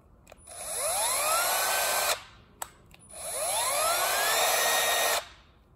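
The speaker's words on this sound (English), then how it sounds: "It's a little hammer drill." A Milwaukee cordless hammer drill runs in two bursts of about two seconds each, whining and rattling loudly close by, with a short pause between.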